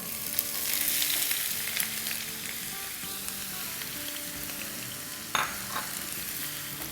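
Chopped onion frying in about four tablespoons of oil in a pan on the stove makes a continuous close sizzle, with stirring scrapes and a sharp clink near the end and no speech.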